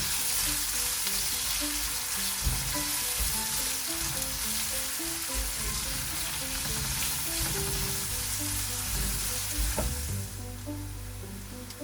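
Tofu, vegetables and onions fry and brown in a pan, giving a loud, continuous sizzle with frequent scraping and stirring strokes from a utensil, and no talking.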